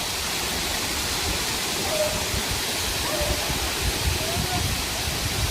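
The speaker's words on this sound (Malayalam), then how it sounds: "ഇതാണ് മെയിൻ വാട്ടർഫോള്" The main cascade of Ezharakund waterfall roars as a steady, dense wash of falling water, loud and unbroken throughout.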